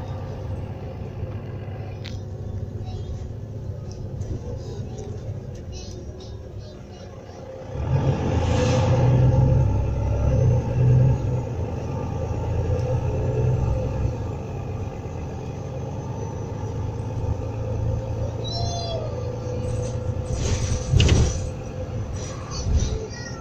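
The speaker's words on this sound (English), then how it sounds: "Yeah, I have to admit this bus is pretty cool." Bus engine drones in a low continuous rumble during the ride, swelling louder as it pulls away, with rattles of the cabin and an occasional chime over the steady noise.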